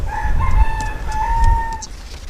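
A rooster crows once, loud and close, a long drawn-out call over a low rumbling background.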